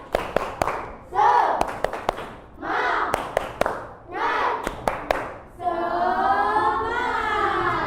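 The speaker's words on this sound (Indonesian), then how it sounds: "Oke, kita tepuk semangat dulu. Tepuk semangat." Students in a classroom do the 'tepuk semangat' clapping chant: crisp, patterned bursts of hand claps between chanted group phrases, followed by a longer sustained shout from the class.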